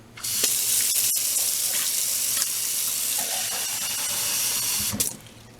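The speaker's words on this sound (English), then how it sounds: "I'm going to add some hot water." Hot water pours steadily from a tap or kettle into an old plastic Solo cup, a continuous splashing rush lasting about five seconds before stopping abruptly, close and fairly loud with no talking.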